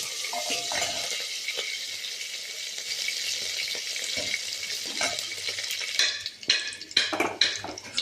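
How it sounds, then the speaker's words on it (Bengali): Dried fish frying in hot oil with onion and green chilli, a steady close sizzle with occasional stirring scrapes, then busier spoon-against-pan clatter toward the end; no talking. "শুকনো মাছটা তেলের মধ্যে দিয়ে দিলাম, দিয়ে একটু সামান্য নাড়াচাড়া করে নেব"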